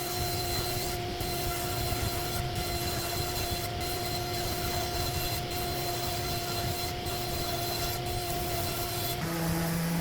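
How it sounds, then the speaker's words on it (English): Steady rasping of sanding on wood cabinet parts, continuous and fairly close, with a constant machine hum underneath and brief pauses in the scraping. "And back to sanding."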